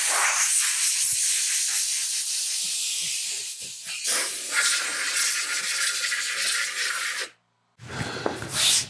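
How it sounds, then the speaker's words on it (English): Compressed air blows dust off a pool table that doubles as a wood shop work table, giving a loud, close, continuous hiss with a few short breaks, a brief stop and a final burst. "So with the panels off, I just use a little compressed air."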